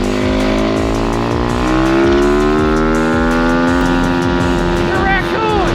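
Long-neglected pit bike engine revving during a ride: a loud, close, continuous drone whose pitch climbs steadily, then dips briefly near the end.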